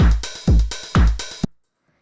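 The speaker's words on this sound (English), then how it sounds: "The drums are just a pretty simple pattern." A simple lo-fi house drum pattern: punchy kick hits with bright hi-hat and clap-like snare hits in a tight, looping rhythm for about a second and a half, then a clean cut to silence.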